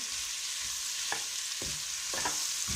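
Tomatoes and green chilies frying in a pan, a steady close sizzle with a few soft stirring scrapes, alone without talk.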